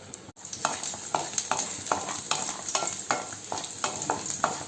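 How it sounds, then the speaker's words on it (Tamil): Small shallots and garlic sauté lightly in oil, sizzling steadily under a regular rhythm of spatula scrapes roughly every half second, close and moderately loud, with no voices. "அதில் இந்த சின்ன வெங்காயத்தையும் பூண்டையும் நம்ம போட்டு லேசாக நம்ம எண்ணெயில் வதக்குவோம்"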